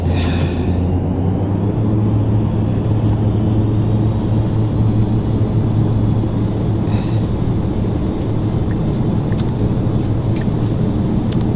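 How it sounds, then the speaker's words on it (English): Carenado's ATR 72-500 turboprop takes off in the Prepar3D V4.5 flight simulator. A loud, sustained propeller and engine drone with a steady low hum runs throughout, with faint clicks and no speech. "we are clear for takeoff"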